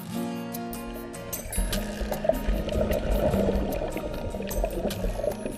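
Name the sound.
men splashing seawater with hands and feet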